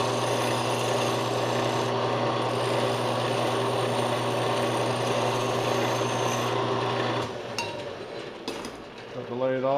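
A file is held against pipe spinning in a lathe, giving a loud, continuous rasping scrape over the steady machine hum, then easing off near the end with a few light clinks.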